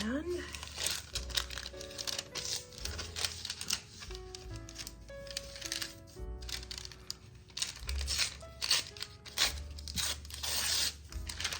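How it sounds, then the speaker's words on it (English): Parchment paper crinkles and crackles in a kitchen as it is tugged loose while lining a pan for cherry fudge, coming in irregular close bursts of rustling, with a person talking over it. "this parchment paper does not want to be freed from its bondage"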